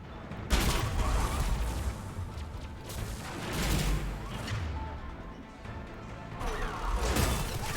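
A turret firing in the video game Mass Effect 3, a dense run of bursts and crashing impacts that swell and fade repeatedly, loud and close, with some voices mixed in.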